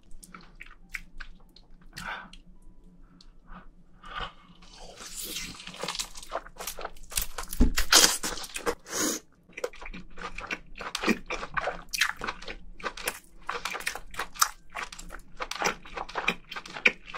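Close, wet crunching and chewing of giant lobster meat and shell, bites cracking in quick irregular bursts with soft squishy mastication between, mouth sounds loud and near with no talking.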